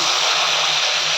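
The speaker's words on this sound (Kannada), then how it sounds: "ಒಂದು ಅರ್ಧ ಗ್ಲಾಸ್ ನೀರು ಹಾಕಿ" A loud, steady rush of water pouring into a pan of vegetables and tomato for saaru, close by and continuous for the whole moment.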